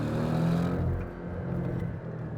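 A Porsche 718 Boxster with a sport exhaust revs hard climbing a mountain road, a loud, steady engine roar close by that dips briefly and swells again.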